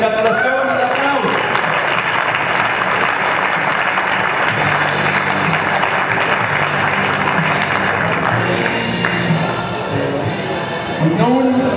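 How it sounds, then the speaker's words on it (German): Sustained applause from a large audience at a cattle show crowning the runner-up cow, steady and dense throughout with crowd noise and speech mixed in, easing slightly near the end. "Herzliche Gratulation und Applaus."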